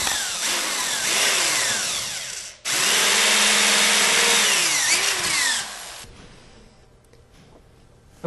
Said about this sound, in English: When drilling plexiglass, you can often start out with a small hole and then use progressively larger bits.